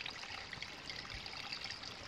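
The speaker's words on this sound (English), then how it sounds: "Nice little waterfall." Small waterfall beside a mountain trail on the Appalachian Trail near West Baldpate Peak in Newry, a steady, soft rushing and trickling of water that runs on without break, heard from a short distance with no voices.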